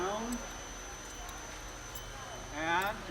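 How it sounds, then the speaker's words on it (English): Hooves of a horse stepping up onto a trailer floor during groundwork training, heard as a few soft clip-clop footfalls among outdoor background noise, with a brief rising whinny-like cry near the end. "just like that horse made that first step into the trailer"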